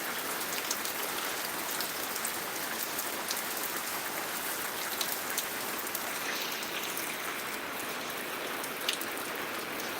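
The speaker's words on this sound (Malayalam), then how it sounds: "ഇപ്പോൾ കുറഞ്ഞു വരുവാണ് എന്നാലും നല്ല അത്യാവശ്യം നല്ല മഴ തന്നെയാണ്" Heavy rain pours steadily in Changanacherry, Kottayam district, Kerala, a dense, even hiss of drops striking surfaces that continues unbroken and fairly loud with no voices.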